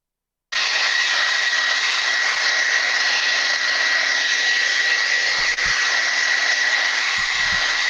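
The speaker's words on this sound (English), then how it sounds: "this would be the same with the hair dryer, but I just want this to be completely dry" A hair dryer blows steadily to dry acrylic paint during an art lesson, a loud, constant whooshing hiss that starts abruptly and holds unbroken for several seconds with no talk.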